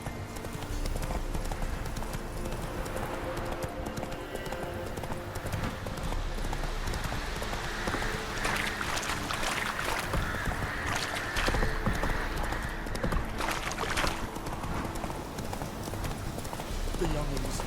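Roach, a horse in The Witcher 3, clip-clops along with a continuous, moderately quiet hoof rhythm layered over game ambience and intermittent voices.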